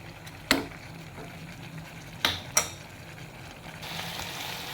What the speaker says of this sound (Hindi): 1 टेबलस्पून अदरक लहसुन का पेस्ट इसमें ऐड कर रही हूँ। इसकी थोड़ी सी भुनाई कर लेंगे।